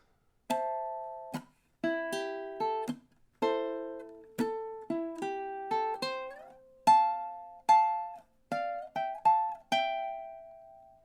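A ukulele plucks a bright melody in paired notes, with steady phrases and short pauses, played clearly and up close with no voices.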